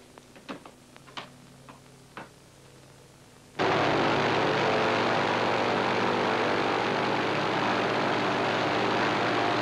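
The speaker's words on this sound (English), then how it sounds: "The port engine is very rough." Aircraft with a rough-running port engine over an aerodrome: a few faint clicks and thumps give way after several seconds to a sudden, loud, sustained roar of propeller engine noise that continues steadily to the end.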